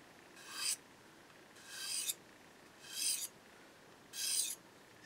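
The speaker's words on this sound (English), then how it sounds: "you can stick this guy in here, like so, and you can sharpen your knife on it" Knife blade drawn across a ceramic sharpener, four separate rasping strokes at an even pace, close and clear with nothing else around them.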